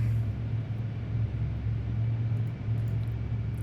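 A C-130J transport aircraft's engines powering up to taxi in the DCS World flight simulator, a steady low droning rumble with a constant tonal hum, loud and continuous throughout.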